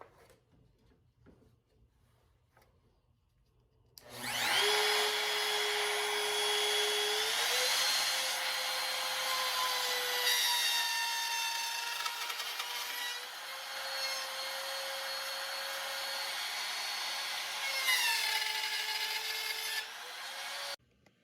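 A router runs a bearing-guided dovetail fixture through wood, a loud steady whine that starts abruptly, shifts pitch slightly as it moves along the fingers, and cuts off near the end.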